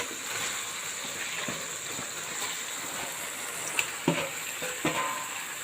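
Chicken meat fries in hot oil with spices, a steady close sizzle with a few sharp spatters and stirring knocks toward the end.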